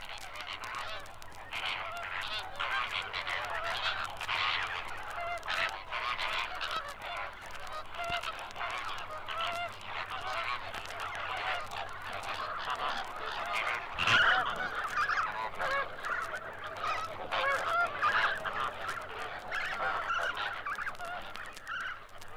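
A flock of large pink-washed birds with coral-red wing coverts and black flight feathers gives continuous overlapping honking calls, mixed with the shrill voices of grey young, dense and steady throughout.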